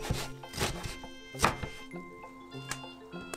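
Knife chopping vegetables for bibimbap on a cutting board, a handful of sharp, separate thunks spaced irregularly, close up with a faint background hum.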